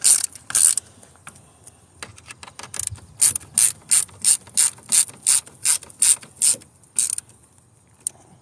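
A ratchet wrench snugs down bolts on a 2022 Jeep Wrangler JL two-door soft top, a quick run of clicks followed by a steady series of about a dozen loud, evenly spaced ratcheting strokes, close up with no talking.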